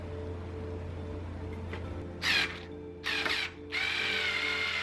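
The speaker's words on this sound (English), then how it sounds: "And I'm pre-drilling everything so it doesn't crack the wood." A power drill pre-drilling wood for a life-size Ringwraith display armature whirs in three short bursts, separated by brief pauses, over a low steady background hum.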